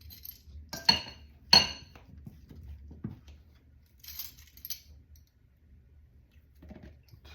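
A metal spoon clinks sharply twice against a dish while scooping vegan butter for banana bread, followed by softer scraping taps and a few faint clatters, close and distinct in a quiet kitchen.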